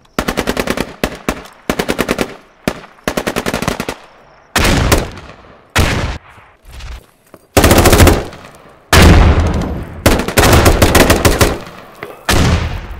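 Automatic weapon fire in the military shooter game Squad comes in loud, close bursts of rapid shots, alternating with single heavy booms and brief gaps.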